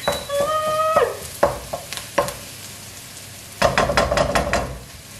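Onions caramelize in a frying pan with a steady sizzle broken by spatula knocks and scraping strokes, and a brief electronic beep sounds at the start.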